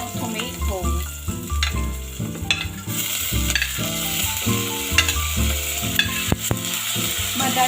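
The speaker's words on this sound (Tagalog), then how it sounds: "next step, lagay na natin yung tomato." Tomatoes going into a pot of milkfish sinigang on low heat, a steady sizzle with stirring and utensil clinks under background music and a speaking voice.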